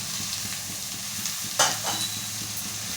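Pieces of ridge gourd are stirred into fried onions in a pan, giving a soft steady sizzle with a brief scraping stir near the middle, close and moderately loud with no voices.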